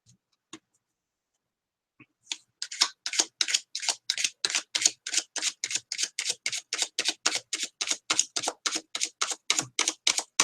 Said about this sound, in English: I'm just shuffling now as fast as I can, okay?